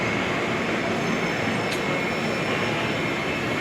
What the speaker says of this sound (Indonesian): Iya, ini kereta api jarak jauh ini.